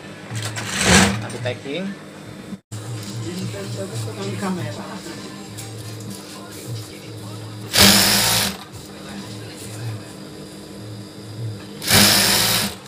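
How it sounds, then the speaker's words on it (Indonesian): A sewing machine stitches foam-layered bedspread fabric with a ruffled trim, its fast mechanical whirring coming in close bursts that stop and start, while someone talks over and between the runs. "Kita akan jahit di sini yang sudah saya garis. Jahitan pertama di sini."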